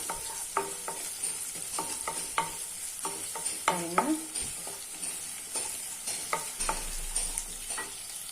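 Small onions sautéing in oil in a pan for a village-style sundakkai vathal kuzhambu, with a steady close sizzle and repeated clinks and scrapes of a spoon stirring, no voices.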